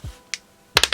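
A single die is rolled, giving one sharp click, a brief pause, then a quick cluster of close, loud clattering taps as it tumbles and settles.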